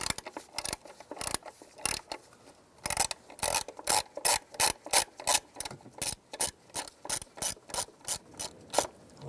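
A ratchet with a T30 socket loosening the coil pack bolt on a 2006-2011 Cadillac DTS, quick bursts of close clicking pawl strokes repeating in an uneven rhythm with short pauses.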